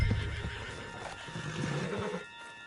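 A horse in Red Dead Redemption 2 whinnies loudly and close, a shrill rising neigh followed by snorting and shuffling, with a steady electronic hum underneath.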